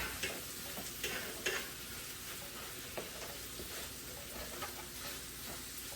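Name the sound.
steak and shrimp sizzling on hibachi grill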